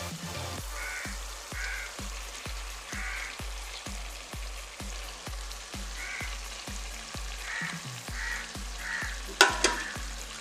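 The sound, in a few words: mutton frying and being stirred in oil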